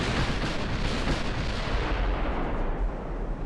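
Battleship main guns firing in the naval combat game Ultimate Admiral: Dreadnoughts, a dense continuous roar of heavy booming salvos and rumbling blasts, loud and sustained.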